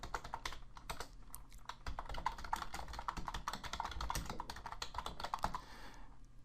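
Fingers type on a computer keyboard in a quick, uneven stream of close, crisp key clicks that pause briefly near the end.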